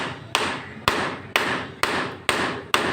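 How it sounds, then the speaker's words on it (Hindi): A hammer strikes a ceramic floor tile at full power, six sharp, loud impacts about half a second apart in an even rhythm, each ringing briefly before the next blow. "मैं हथौड़े से इसके ऊपर हिट करूँगा।"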